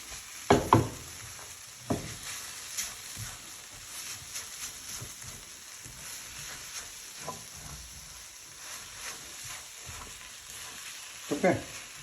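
Chicken noodles are stirred and mixed in a frying pan, soft steady sizzling with scattered scraping and clacking of the utensil against the pan, a few sharper knocks near the start and end.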